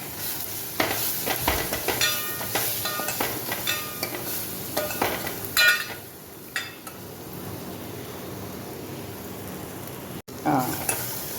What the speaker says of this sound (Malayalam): പൊടികളും തേങ്ങാക്കൊത്തുമൊക്കെ ഒന്ന് എണ്ണയ്ക്കകത്ത് കിടന്ന് ഇട്ടിട്ടുണ്ട്